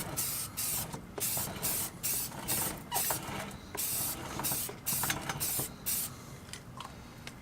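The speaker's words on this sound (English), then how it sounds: "make sure you spray your chain" Chain lube sprayed onto the chain of a Can-Am DS70/DS90 ATV in repeated short hissing bursts, close and fairly quiet, each spritz separated by brief pauses as the chain is rotated.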